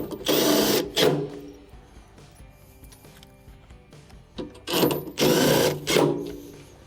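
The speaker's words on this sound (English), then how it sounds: "Let's get our bolt started and tighten it up." A power tool tightens bolts on an LG washing machine during repair, with two loud whirring bursts, one near the start and a longer one later, separated by quieter clinks and handling noise.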